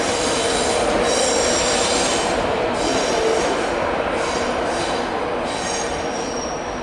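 Train pulling into Newcastle station on the East Coast Main Line, a London King's Cross to Edinburgh service, with loud steady rumble and sustained high wheel squeal close by, no talking.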